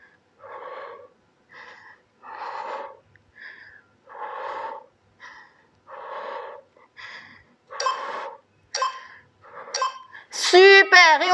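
Heavy rhythmic breathing during a home HIIT workout: about eight forceful exhalations in a steady pattern, close and loud, ending with a voiced gasping strain.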